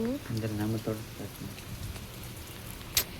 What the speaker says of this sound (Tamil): கருவேப்பிலை செடி மழை தூரிகிட்டே இருக்குல்ல